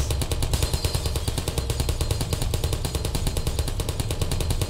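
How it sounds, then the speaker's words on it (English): Steady, rapid automatic gunfire from a video game in the Portal series, a loud, even stream of evenly spaced shots that runs unbroken for several seconds with no voices. "Who's already shooting?"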